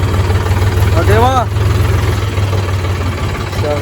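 A tractor engine idles with a steady low diesel throb throughout, loud and close, while a voice speaks over it briefly.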